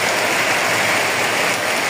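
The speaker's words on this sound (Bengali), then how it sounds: "আজকের বৃষ্টিটা অনেক বেশি হইতেছে, এরকম বৃষ্টি এর আগে হয়নি" Heavy storm rain pouring down in a dense, steady roar of drops hitting surfaces, loud and close, with no pauses or voices.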